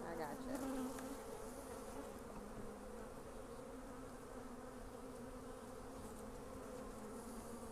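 Honeybees swarm around an open hive set on a pallet, a dense, continuous buzzing drone hovering close and steady throughout, fairly quiet overall, with no talk.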